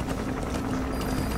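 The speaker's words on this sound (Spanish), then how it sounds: "Maldita sea, ahí está el helicóptero." Helicopter in the video game Metal Gear Solid 5: The Phantom Pain, a steady dense rotor-and-engine drone holding at even loudness throughout, close and continuous with no talk over it.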